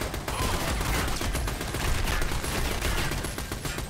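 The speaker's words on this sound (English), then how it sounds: "Who is shooting at me? With what?" Rapid overlapping gunfire from an Army of Two firefight, a dense continuous fusillade of shots and machine-gun bursts, loud and close throughout.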